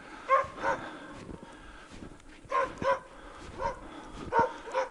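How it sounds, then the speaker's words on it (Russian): A dog gives several short, whining barks and yelps in small bursts, at moderate distance, with quiet gaps between them. "Лает."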